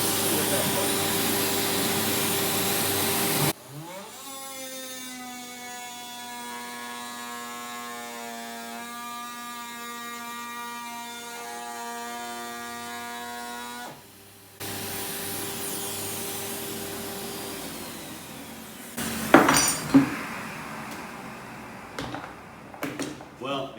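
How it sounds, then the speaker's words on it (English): A Ryobi multitool fitted with a dust extractor runs with a steady, high-pitched buzzing whine for about ten seconds between noisier handling and rustling, and voices are heard near the end. "it seems that the dust extractor doesn't really do much"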